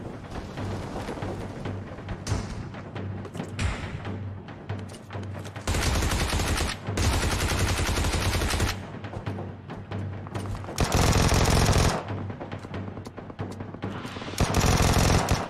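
Automatic gunfire in a battle royale video game, rattling out in several loud sustained bursts separated by quieter stretches of scattered shots and game noise, with no voices.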